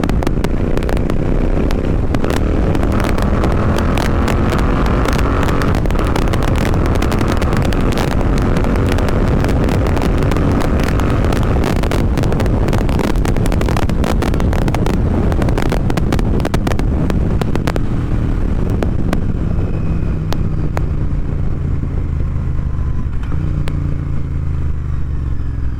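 A Royal Enfield Interceptor 650 fitted with a Red Rooster performance exhaust roars while riding at speed, loud and continuous engine drone buried in heavy wind buffeting, with engine tone shifting and easing toward the end.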